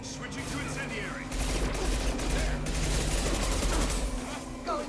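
Rapid bursts of video-game gunfire firing incendiary rounds, loud and sustained, rattling in near-continuous automatic fusillades over a low rumble, with a brief lull near the end.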